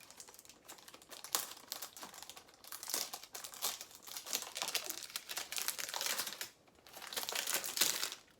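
Crinkly paper packaging from a Bleu de Chanel Parfum cologne box rustles and crackles close up in irregular bursts, loud crunching alternating with brief quieter gaps as the box is unwrapped.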